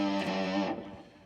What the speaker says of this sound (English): you want to put on some distortion or some fuzz or a blues driver or something